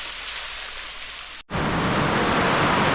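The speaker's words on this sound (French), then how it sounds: "une belle cascade" A small waterfall in a jungle forest in Togo gives a steady, dense rush of falling water, loud and close, broken once by a brief dropout before resuming.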